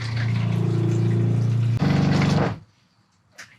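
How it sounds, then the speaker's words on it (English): Electric pump pushing plumbing antifreeze through travel trailer pipes, a loud steady motor hum that shifts pitch midway, then cuts off abruptly, leaving a brief faint drip-like click in the quiet. "Let's see what our plumbing antifreeze is doing. It is going through there."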